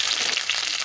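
Curry leaves and chopped green chilli fry in hot oil in a pan, giving a bright, continuous crackling sizzle, close and steady across the short stretch with no talking over it.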